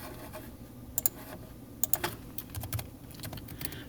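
Computer keyboard keys tapped as numbers go into RStudio, a few quick isolated clicks and short bursts, faint and close, in a quiet room.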